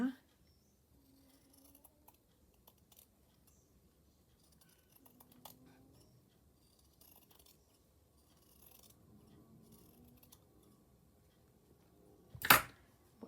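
Scissors cutting purple fabric for a slow-stitched pouch: a single sharp, loud snip near the end after a long quiet stretch of faint handling noises and soft voice.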